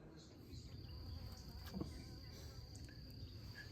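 Honeybees hum at a bee yard while a queen is being caught, a low steady buzzing droning throughout with faint insect whine above, moderately distant and unbroken by talk.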